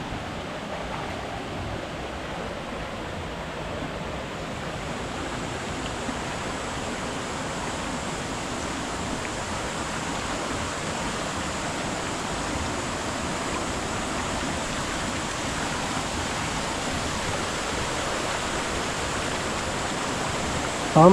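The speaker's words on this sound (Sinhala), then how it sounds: "වතුර තමයි යන්න තියෙන්නේ" A flowing stream along a mountain road near Ella rushes in an even, unbroken wash of water, steady and fairly close throughout with no voices.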